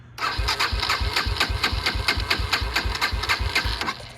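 A Yamaha TTR230 dirt bike engine catches and runs, a rapid, even chug of firing pulses at moderate volume, close up, with no talk.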